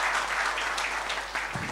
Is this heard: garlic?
no